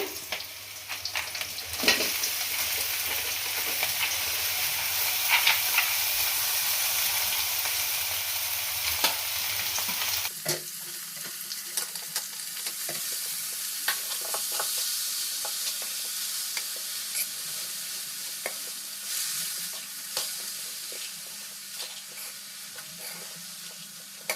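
A sizzling tempering is stirred into a lentil and vegetable curry in a pan, giving a loud steady frying hiss that abruptly changes into quieter bubbling with occasional spoon scrapes, no talk.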